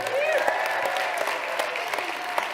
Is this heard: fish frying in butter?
no